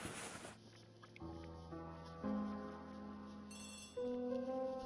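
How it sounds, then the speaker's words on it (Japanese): A telephone rings in the Agatha Christie ABC Murders video game, a short burst of noise followed by a sequence of clear, steady electronic ringing tones, faint and alone. "電話かな？電話だね。"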